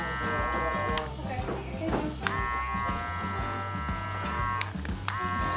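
An electric hair clipper with a guard runs through curly hair during a mid bald fade, giving a steady close buzz broken by a few sharp clicks and brief swells.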